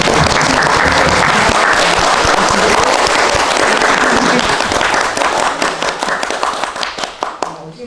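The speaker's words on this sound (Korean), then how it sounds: "그걸 그렇게 연기해 주신 배우님께 박수 한번." A live audience claps and applauds for an actor at a film talk event, a dense, loud burst of many hands that thins and fades toward the end.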